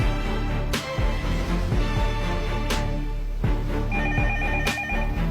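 A telephone rings indoors in a dramatic movie scene, pulsing repeated bursts of ringing layered over a steady background music bed.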